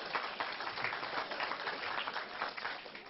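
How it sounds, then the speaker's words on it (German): Audience applause at a German political cabaret performance, a steady wash of clapping from a large crowd, fairly loud and continuous, with no talk over it. "Da klatschen die Steuerhinterzieher wieder."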